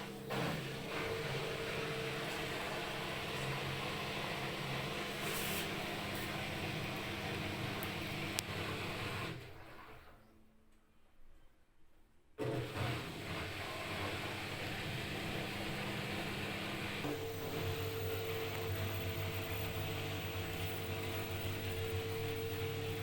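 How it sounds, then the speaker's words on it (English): Front load washing machine on a spin-only cycle, a steady whirring hum with a drum rumble, briefly dropping quieter for a couple of seconds before the constant spin noise resumes. "So we put it on a spin only. So this is the spin only,"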